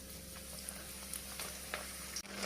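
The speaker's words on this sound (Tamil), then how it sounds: "பக்கோடா நல்லா வெந்துக்கிட்டு இருக்குது." Jackfruit pakoda pieces fry in hot oil, making a steady soft sizzle with faint crackles and a brief clack near the end.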